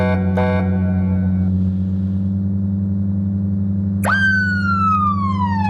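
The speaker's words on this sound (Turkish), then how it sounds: "Ama siren sesleri gerçekten efsane dostlar." A police siren in an Android police convoy simulator game wails loudly over a steady engine drone, with a sharp rising whoop near the end that slowly falls away.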